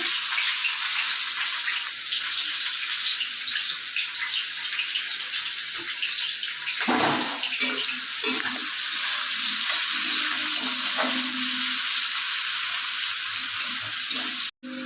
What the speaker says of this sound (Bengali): তেলটা গরম হয়ে গেছে, পেঁয়াজগুলো দিয়ে দেবো